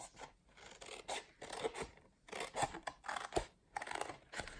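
Scissors snip through paper for a handmade candle gift box, a series of close, crisp cutting strokes in an irregular rhythm with short pauses between them, quiet and without talk.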